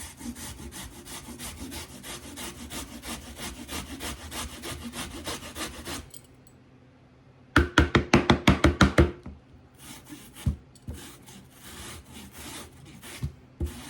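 Onion rubbed back and forth on a fine grater for copycat KFC coleslaw: a steady rasping rhythm of quick strokes, pausing briefly before a louder burst of sharper, evenly spaced scrapes and a few scattered knocks.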